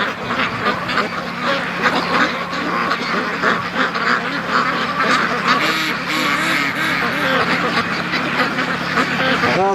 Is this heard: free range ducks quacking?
yes